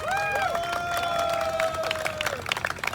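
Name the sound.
audience applause for fire and police volunteers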